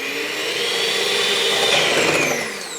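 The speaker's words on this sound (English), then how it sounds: "Clean blades, and I'll be whisking it, but do not overdo it," Electric whisk with clean blades whipping about 130 ml of cream in a very large bowl, giving a loud, continuous high whirring drone that holds steady throughout, with no voices.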